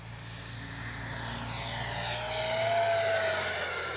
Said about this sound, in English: I'm gonna make one fast pass down the runway